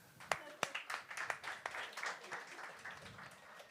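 Scattered, distant clapping from a comedy show audience, a handful of sharp separate claps building into light applause, heard faintly under a voice.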